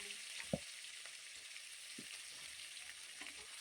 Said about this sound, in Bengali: পেঁয়াজ বাটা দিয়ে ভালোভাবে তেলের মধ্যে মিশিয়ে নিচ্ছি